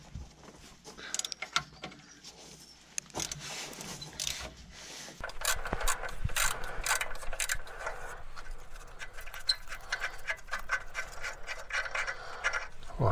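Ratchet wrench backing out exhaust bolts on a Renault Twingo 1 engine during teardown, giving sparse scraping and clicking at first, then a steadier busy rasping stretch of metal-on-metal work, close and moderately loud.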